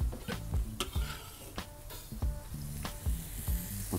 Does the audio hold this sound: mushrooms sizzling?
yes